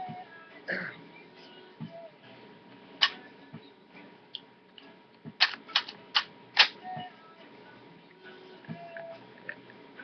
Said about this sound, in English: And here's the bolt. It's very smooth action.